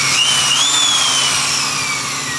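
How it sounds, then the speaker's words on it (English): A spot weld drill bit grinds steadily into car body sheet metal on a Project Integra car, a loud, continuous high-pitched whine with a slowly shifting tone, close and alone. "the whole goal and purpose of using this spot weld drill bit is to go around those spot welds that we just drilled pilot holes in"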